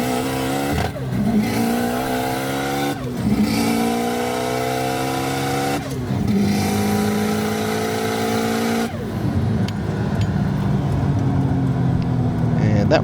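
A car on a drag run accelerates flat out. The engine climbs hard through several gears, each rising pitch cut by a brief dip at the shift, loud and close with a harsh roar.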